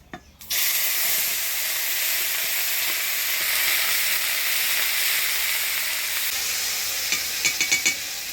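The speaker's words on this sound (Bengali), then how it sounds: "এবারে দিয়ে দিচ্ছি বাটা মশলা" Ground spice paste drops into hot oil for a Bengali small fish curry, with dried chilli and cumin already tempered, and erupts into a loud, steady sizzle that lasts, with a few light stirring clicks near the end.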